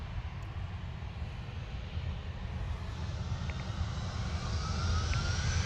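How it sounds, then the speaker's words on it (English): An EasyJet airliner departing for Pisa, its broad jet engine roar steady and fairly distant, slowly building in loudness with a faint rising whine, no voices over it. "Next out is the EasyJet. I think this is off to Pisa."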